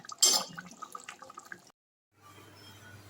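Thick prawn malaikari made with king-size prawns, coconut, cashews and raisins is poured out, giving a brief wet splash and drips that stop abruptly, followed by a faint steady hum.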